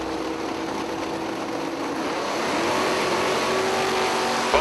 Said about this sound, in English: Both cars are away clean.